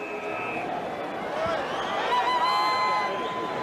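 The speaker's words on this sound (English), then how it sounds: "A lively crowd, a big crowd." Lively babble from a big crowd of about 15,000 at Marrara during a 1994 Australian football match between Collingwood and the Aboriginal All Stars, a steady distant hubbub at the start of the last quarter.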